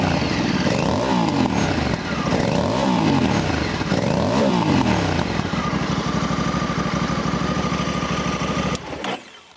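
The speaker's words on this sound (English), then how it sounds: "it sounds fantastic, especially for a stock exhaust" A Honda Africa Twin 1100 motorcycle with stock exhaust revs repeatedly in rising and falling sweeps, then settles into a steady, throaty idle before cutting off abruptly near the end.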